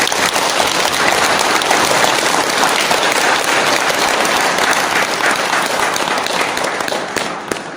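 A congregation at a Buddhist dharma service claps together, giving loud, dense applause that holds steady for several seconds before tapering slightly at the end.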